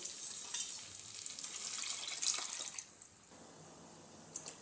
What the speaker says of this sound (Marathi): तर चला तर ही डाळ आपण ॲड करू.